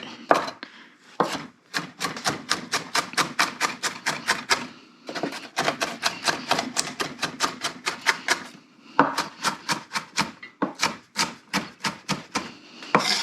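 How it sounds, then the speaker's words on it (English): Cipollini onions being chopped with a knife on a board: quick, steady runs of sharp knife strikes in bursts, close and fairly loud, with brief pauses between rounds. "Cipollinis are a little bit harder to chop sometimes just because the shape is odd."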